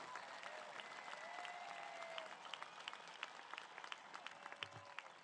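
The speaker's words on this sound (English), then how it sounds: "applause?" Graduation crowd at Vacaville High School applauding its valedictorians, a steady wash of clapping throughout with a faint voice briefly over it.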